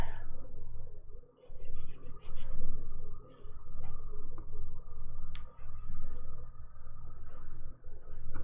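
A nail file rasps along the sides of dip powder manicured nails in steady back-and-forth strokes, close and fairly loud, with brief pauses between runs and no talking.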